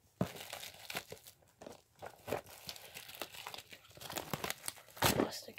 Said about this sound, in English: I got a nice little hole in the plastic, so I could open it up quickly